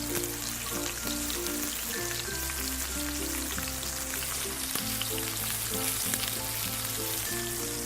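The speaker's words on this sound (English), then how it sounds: "So I'm just gonna flip that over and continue to sear it on this side." Meat sears in a hot pan with a dense, steady sizzle that crackles continuously at close range, while background music with sustained tones plays throughout and no one speaks.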